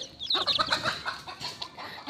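Close by, a mother hen clucks in quick repeated bursts, with high thin peeping from her chicks mixed in.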